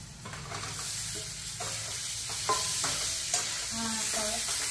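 Potato and onion with turmeric and salt being stir-fried in a home kitchen pan, a steady sizzle broken by several scraping, clanking stirs of a utensil against the metal, close and fairly loud.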